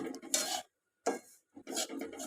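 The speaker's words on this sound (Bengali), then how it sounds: "গুঁড়ো দুধটা দিয়ে এটাকে ভালো করে আমি মিশিয়ে নেব" Powdered milk being stirred into a suji and besan mixture in a pan for barfi: three short scraping strokes of a spoon, close and fairly quiet, separated by brief silences.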